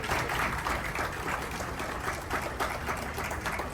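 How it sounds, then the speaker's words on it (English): Applause at a formal institutional event hall during a presentation to a chief guest, a steady, fairly loud wash of clapping from a seated crowd for a few seconds. "I request a big round of applause."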